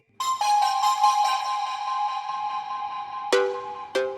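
An electronic phone ringtone plays a bright repeating melody, loud and close, ending with two sharp chime-like notes, with no talking over it.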